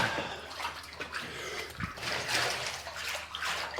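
Water pours and splashes steadily while filling a cold plunge tub, a continuous broad hiss close by with small surges and no voices.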